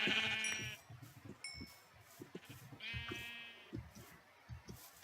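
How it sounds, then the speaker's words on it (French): Sheep in the Minecraft video game bleat several times, short wavering calls repeated over a low-level background of soft thumps and clicks from gameplay. "il y a des moutons"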